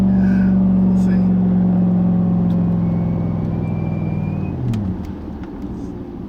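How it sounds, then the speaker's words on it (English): Steady engine rumble of vehicles on a road, a loud close hum that slowly shifts pitch and fades slightly as traffic moves past. "Monday traffic."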